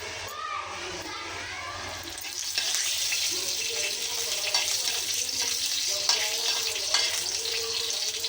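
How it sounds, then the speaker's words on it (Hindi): Cumin seeds hit hot desi ghee in a pan and the sizzle jumps up loudly, then holds as a dense, close crackling hiss with a few stirring scrapes. "मैंने सिर्फ 2 चम्मच देसी घी डाला है। अब मैं डालूंगी इसमें जीरा"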